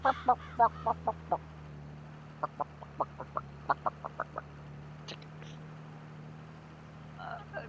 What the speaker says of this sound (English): Oh, I'm in here with the chickens.